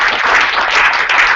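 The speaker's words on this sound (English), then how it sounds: "We just send you a round of applause around the globe." Applause closes an online conference session on open practices in professional development, a short burst of continuous clapping heard loud and close, as if through a laptop microphone.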